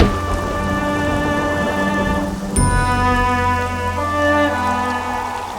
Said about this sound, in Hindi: ओह, कितनी बारिश है,